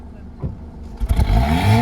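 A Honda Accord's engine revs up, rising from a low rumble into a loud, climbing roar in the last second; a voice talks over the start.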